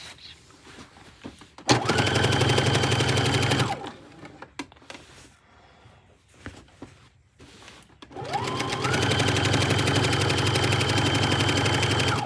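A domestic sewing machine quilting a finished project, running in two loud steady bursts of rapid needle chatter separated by a quieter pause with small handling noises.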